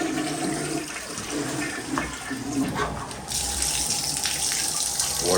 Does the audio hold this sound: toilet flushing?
yes